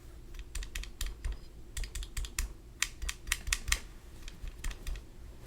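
Fast, crisp key clicks from a Boardwalk mechanical keyboard fitted with GMK Calm Depths keycaps come in irregular bursts, close and clear with no talking.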